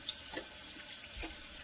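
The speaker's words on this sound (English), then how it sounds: "wash your hands with water" Tap water running at a bathroom sink while hands are washed, a soft continuous hiss and splash with a few faint splashes and clicks scattered through it.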